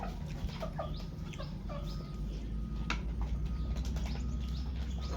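Chickens being chased, with a rapid series of squawks and clucks over a constant loud background roar, close and busy.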